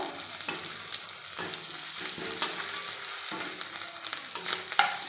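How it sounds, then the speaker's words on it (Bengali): Ginger paste is stir-fried in oil in a pan with a spatula. A steady close sizzle runs throughout, broken by repeated scraping and stirring strokes, with no one speaking. "এবার আদা বাটা একইভাবে এমন করে খুন্তি দিয়ে নেড়ে নেব।"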